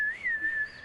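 A single person whistles one sustained, slightly wavering tone that rises briefly and then holds steady, clear and close, with no talking.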